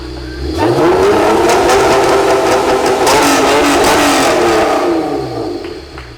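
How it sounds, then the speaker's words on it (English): Rebuilt Honda NSX engine, once a junkyard car, revving hard through its exhaust; a loud, close rise and fall of throttle that holds high for several seconds, with no talk over it. "That's a damn good exhaust."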